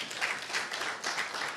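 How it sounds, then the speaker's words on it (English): Audience clapping for forum panelists at an academic public-private partnership event, a short, moderately faint patter of hands with no one speaking over it. "Can we clap for them?"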